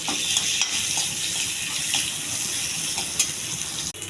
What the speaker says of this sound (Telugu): కొంచెం జీలకర్ర, కొద్దిగా కరివేపాకు, ఉల్లిపాయ అండి బాగా వేగాలి.